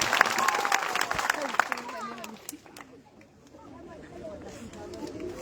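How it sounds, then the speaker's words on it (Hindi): Crowd applause at a political public rally in Nagpur swells loudly with dense clapping and cheering, then fades to a thinner murmur with scattered claps, while a voice speaks over the crowd. "एक बार जोरदार तालियां लगाइएगा अपने लिए"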